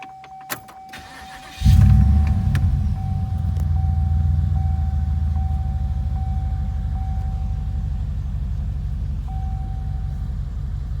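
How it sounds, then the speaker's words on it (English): An LS4 V8 engine fitted with a swapped TBSS intake cranks and catches after a click and a brief starter whir, then settles into a loud, steady, deep rumbling idle up close, with a faint high whine held underneath. "Start her up, give her a run."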